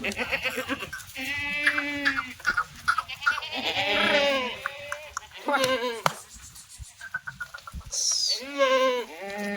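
Kathiawari goats bleating repeatedly at a goat shed, loud and close, with several overlapping wavering calls and some people talking nearby.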